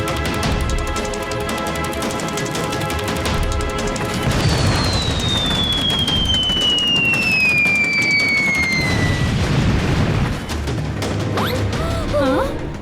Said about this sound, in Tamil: அவங்க பீரங்கி தாக்குதல் பண்ண ஆரம்பிச்சிட்டாங்க